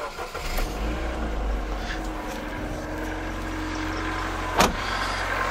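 A Ford Fiesta IV running on an ethanol kit, started cold on a chilly morning, settles into a steady close engine drone with a sharp click near the end.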